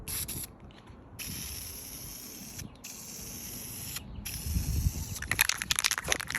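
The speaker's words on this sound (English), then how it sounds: "First spray, let's go." An aerosol can of high-heat paint sprays onto a car intercooler from a Subaru STI in short hissing bursts separated by pauses, with the final bursts louder and mixed with handling clatter.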